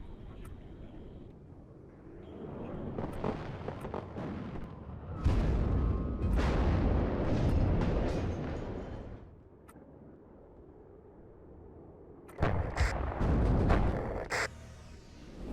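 Artillery fire in the WARNO strategy game: heavy booming blasts in loud bursts, with rumbling barrages building and fading over the stretch.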